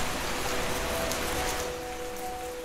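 Steady rain falls throughout, a dense even patter of drops on a surface with no voices.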